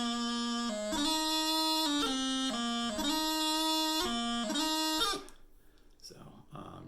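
A Great Highland Bagpipe plays a run of D throws at full tempo, its loud chanter notes and crisp grace-note bursts sounding over a steady drone. The piping then cuts off, leaving faint room noise.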